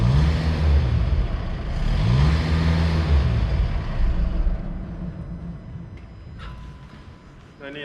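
Škoda Octavia RS with a 135 kW four-cylinder diesel revved hard in two loud, rising pulls close by, then settling toward idle as the engine note fades and a brief sharp noise follows near the end.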